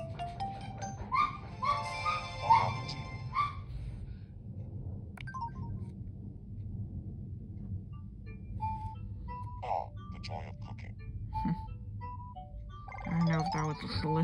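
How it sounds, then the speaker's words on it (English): A dog barks and yips at the doorbell indoors, a few sharp bursts early on and again near the end, over a quiet background of game music and a person talking. "And my dog at the doorbell."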